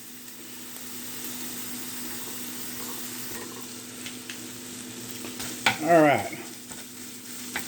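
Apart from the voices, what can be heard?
sausage frying and being crumbled in a pan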